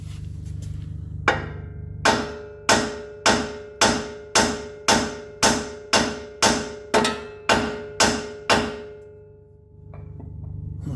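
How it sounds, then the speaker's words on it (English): A hammer strikes a suspension part on a 2015 Ram 1500 during a Rough Country 2.5 inch leveling kit install, about a dozen loud, evenly spaced metallic clangs that ring briefly after each blow. "Let's hit it with the hammer here a couple times and hopefully it'll come out of there."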